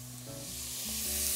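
Meat frying in a pan in a home kitchen, giving a soft continuous sizzle that grows slightly louder over a second and a half, close but quiet, with no voices over it.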